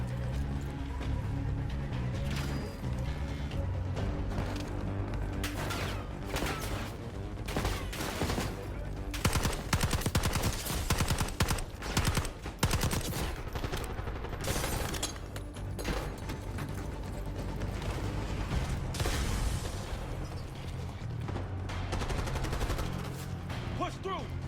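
Machine gun fire in a war video game rattles in dense, sustained bursts mixed with other gunshots and battle noise, loud and continuous, while voices shout and talk over the fighting.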